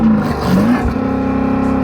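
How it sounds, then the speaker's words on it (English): A stationary Porsche Cayenne Turbo GT revs its engine, the exhaust note climbing and dropping in loud, close bursts held back by a soft rev limiter. "Go on, rev the car up."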